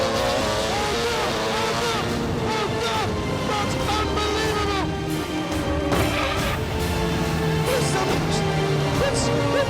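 A Formula 1 car screams at high revs around a track, close and loud, its engine note climbing and dropping sharply through gear changes.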